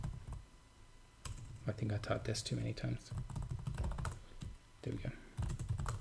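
Quick bursts of clicking on a computer keyboard at a terminal while logging back in over SSH, close and fairly quiet, with someone talking over parts of it.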